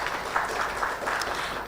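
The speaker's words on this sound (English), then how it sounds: "huge round of applause for Mr." An indoor audience at a foundation day ceremony applauding, a dense, steady wash of many hands clapping at once, fairly loud and continuous with no talk over it.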